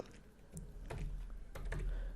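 Quiet clicking of keys on a computer keyboard, a few irregular light taps spread across a couple of seconds at close range with no talk.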